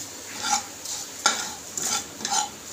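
Red chilli masala being stirred in a pan for a spicy black pea curry, with repeated scraping strokes over a soft sizzle, close and moderately loud, no voices.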